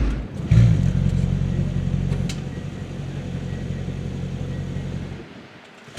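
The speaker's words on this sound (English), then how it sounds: "at the same time I'm gonna start our vehicle, and it's gonna do our emotional start" Mercedes-AMG GLE 63 firing up with its emotional start, a loud sustained low engine rumble and rev that holds steady for about five seconds before cutting off.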